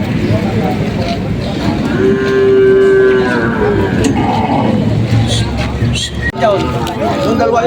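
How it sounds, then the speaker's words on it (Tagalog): Cattle mooing at a livestock auction market in Lucena, Quezon, with a sustained low moo standing out over a dense din of crowd chatter and speech. "May mailap na baka."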